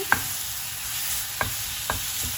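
Onion, tomato and dried red chillies sauté in a pan for tomato chutney: a steady close sizzle and hiss, broken by three or four sharp spoon scrapes, with no talking.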